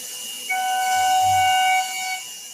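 CNC machining center spindle spinning up to 15,000 RPM while cutting a firearm part, a loud whining tonal scream with several steady pitched tones that hold for about two seconds and then drop away, with no talking.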